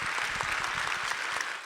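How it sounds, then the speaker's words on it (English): Audience applauding at a college speaking event honoring a speaker, a steady wash of many hands clapping close and even throughout, with no talk over it. "Give Mark a round of applause."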